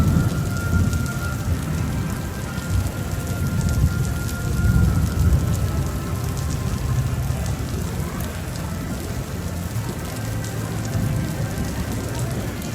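Summer rain pours down at Epcot, a loud, continuous hiss and patter of drops on hard surfaces with low rumbling underneath, steady from start to finish with no voices.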